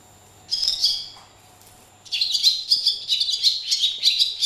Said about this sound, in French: Ce sont des hirondelles.